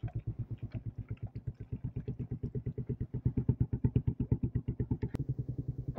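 A motorcycle ridden on a cold morning, its engine chugging in a rapid, even thump close by, the beat quickening slightly midway, with no talk.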